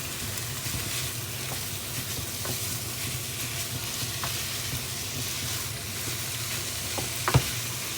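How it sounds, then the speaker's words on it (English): Minced meat for a spiced cottage pie browns in a pan, a steady close sizzle and crackle with occasional stirring scrapes and a sharp utensil knock near the end. "what I've got to do now is brown the meat"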